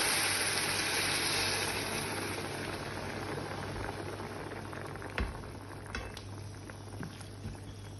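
Beef stew with sauce bubbling steadily in a pot on the stove, a dense continuous simmering hiss with occasional small pops and a faint clink of utensils, close and without talk.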